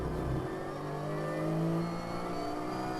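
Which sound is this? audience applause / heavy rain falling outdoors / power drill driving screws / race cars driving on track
race cars driving on track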